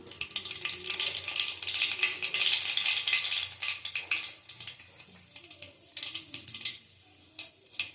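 Nigella seeds sizzle in hot oil as a tempering for a spicy prawn curry, giving a loud, dense, crackling hiss up close that thins into scattered pops toward the end, with no voices.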